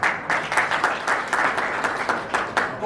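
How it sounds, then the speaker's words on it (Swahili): Sustained crowd applause at a public meeting on Kenya's cybercrime law, dense rhythmic clapping from many hands with periodic surges, close and fairly loud throughout. "Makofi kwake jamani."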